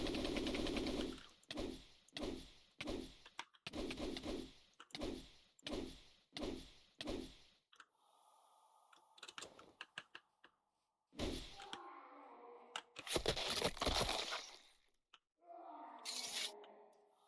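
Mist Barrage attack effect in a video game: a rapid series of sharp thumping hits in a regular rhythm, then scattered bursts, a whooshing swell and several louder impacts separated by quiet gaps.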